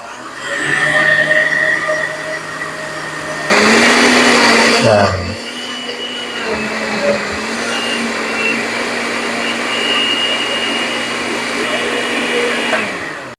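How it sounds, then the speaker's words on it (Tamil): An electric blender whirs steadily while making juice in a home garden kitchen, a loud continuous motor hum that surges briefly mid-way as its pitch shifts, with a person talking over it. "இப்போ ஜூஸ் அடிக்க போகிறோம் இப்போ வந்து ஜூஸ் அடிக்கிறோம்"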